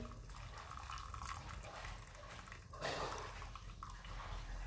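Water runs and splashes steadily into a dry vessel as it is drained off for lemon pickle, a continuous liquid trickle with a brief louder gush partway through.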